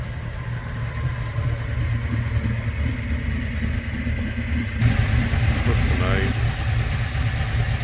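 A 1971 XY GT Falcon replica sits idling, its engine giving a steady, low rumble throughout while someone talks over it.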